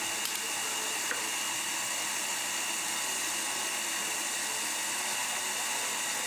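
A drill boring an 8 or 9 mm through hole in wood for a wooden shoulder vise, heard as a steady, continuous high whine of moderate loudness, alone with no talk.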